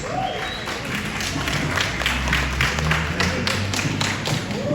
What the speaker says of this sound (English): Good to see Hanan clapping first off.